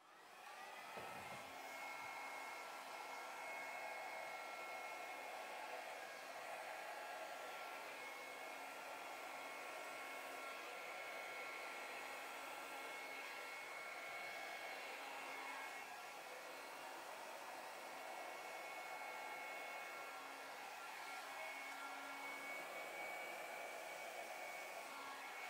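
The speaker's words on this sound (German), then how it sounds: "Nun ist es an der Zeit, uns unseren Föhn zu schnappen." A hair dryer blows steadily and loudly at close range for the whole stretch, drying an acrylic pour painting in black and gold, with a constant whirring rush and no talking.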